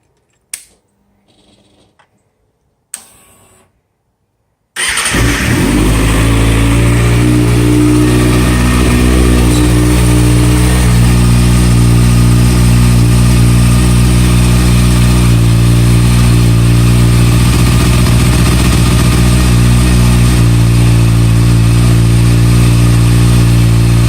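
A 2009 Kawasaki ZX6R sport motorcycle engine cranks after a few quiet clicks, then catches and keeps running loud and close. It settles into a steady, droning idle for about twenty seconds, with no voices.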